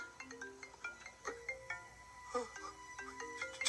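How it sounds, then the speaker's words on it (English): A phone plays a melodic electronic ringtone, a quiet repeating tune of bright tones looping in short phrases, alone and a little distant. "Is that my phone?"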